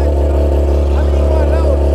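A motorcycle fitted with a loud Akrapovic exhaust drones steadily nearby, a deep continuous engine roar with a slight rise in revs, filling the scene.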